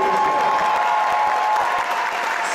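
A theater audience at the Balboa Theater applauds the staff with dense, loud, continuous clapping close by, and a voice is faintly audible underneath.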